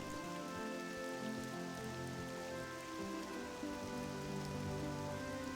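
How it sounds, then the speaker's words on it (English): Steady rain falls in the video game Morrowind, a constant dense hiss of drops with no breaks, fairly soft and even throughout, with no voices. "Would like to have a little less of the rain."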